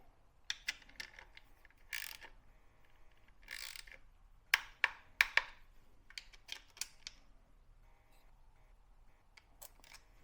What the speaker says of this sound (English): Let's torque them up.